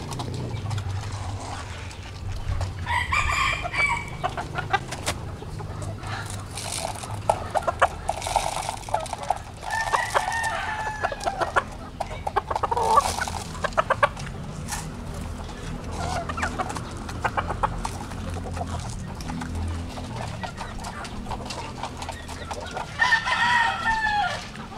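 Pet Kelso roosters, including a Lemon Sweater x White Kelso cross, crow repeatedly and cluck nearby, with overlapping calls and fowl chatter throughout.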